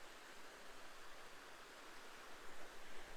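Seven Mile Creek in a Minnesota county park flows steadily below an eroded bank, a soft, even rush of water heard faintly and continuously with no voices.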